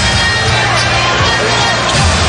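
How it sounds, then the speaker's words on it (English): Dense, steady roar of a basketball arena crowd cheering at a 2010 Cavaliers vs Celtics playoff game, loud and sustained with no breaks. "That pushes the crowd momentarily"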